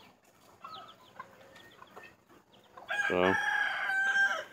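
A flock of chickens clucks softly nearby, then a rooster lets out a loud, drawn-out crow close by; a person briefly speaks at the start.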